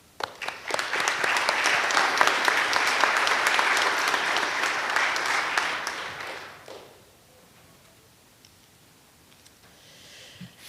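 An audience applauds nursing graduates at a university convocation, a dense, loud wash of clapping for about six seconds that quickly dies away into quiet room tone, with a faint stir near the end.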